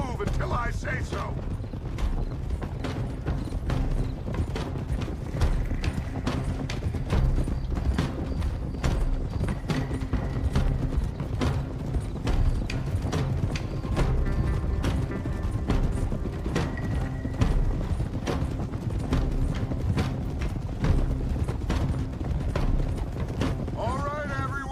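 Horses walking in Red Dead Redemption 2, a steady clip-clop of hooves with creaking tack running under continuous game music and ambience, voices speaking over it.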